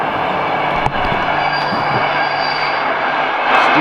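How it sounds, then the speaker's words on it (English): A train in Stockholm rumbles past with a loud, dense roar and rattle, continuous and close for a few seconds. "Stupid train!"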